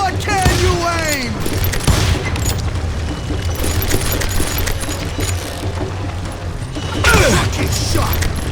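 Shots and booms from the Western shooter Call of Juarez: Gunslinger sound in scattered bursts amid game noise, with voices speaking over the action.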